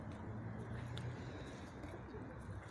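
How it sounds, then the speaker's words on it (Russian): Pigeons coo beside a rubbish bin on a riverside embankment at five in the morning, soft low murmuring calls that stay faint against a broad outdoor background hum. "Все там возле мусорника воркуют, что-то ищут"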